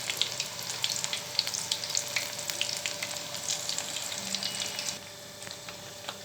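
Kilu pakoda fry in hot oil with a close, continuous bubbling sizzle and scattered crackles, which drops to a softer, quieter hiss toward the end.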